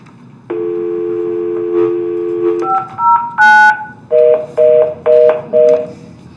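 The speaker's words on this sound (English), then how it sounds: "Because I have to dial 9. Sorry, folks. It actually goes into the speakers." Telephone keypad tones played through a meeting room's loudspeakers: a long steady tone, then a quick run of beeps and a series of evenly spaced touch-tone pulses, loud and clear with no talking.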